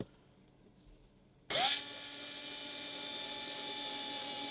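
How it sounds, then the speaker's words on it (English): A power drill bores a hole through a plastic lid while a DIY mushroom-growing humidifier is assembled; after a quiet start, the drill bursts in loud and close, then settles into a steady whine until the end. "I'll just make a hole with the drill."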